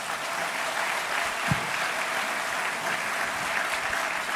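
Audience applause after a health conference on sleep and its disorders: a steady, dense wash of clapping from a room full of people, sustained at an even level throughout with no voices over it.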